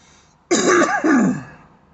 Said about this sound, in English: I'm a sniffling and a snorting.